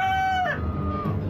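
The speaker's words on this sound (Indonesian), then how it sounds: "Akulah ayam jago." A rooster crows once, loud and close, its drawn-out call falling away into a brief low cluck at the end.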